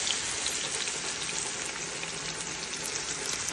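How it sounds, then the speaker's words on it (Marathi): Pieces of halwa fish fry on medium heat in a pan, giving a dense, even sizzle and crackle, close and steady from start to end with no voices. "फिश आपल्या चांगल्या प्रकारे फ्राय होत आहे।"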